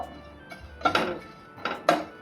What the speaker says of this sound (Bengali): এখন এই শুকনো কড়াইতে মৌরিটা আর এলাচটা একটু ড্রাই রোস্ট করে নেব